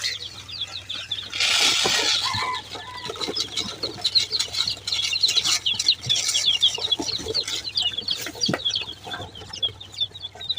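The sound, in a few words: chicks feeding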